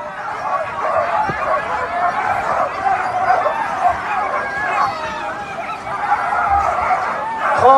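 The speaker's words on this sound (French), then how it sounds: "je vous laisse écouter les chiens chanter ce titre et leur hymne d'attelage" Sled dogs at a race start in the snowy Alps howl and yip together in a dense, continuous chorus of overlapping voices, loud and close, with people talking beneath.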